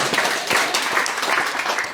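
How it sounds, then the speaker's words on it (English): Wedding guests at a reception at Albert River Wines on the Gold Coast break into steady, dense clapping that fills the room, close and sustained throughout with no voices standing out. "you can clap for that"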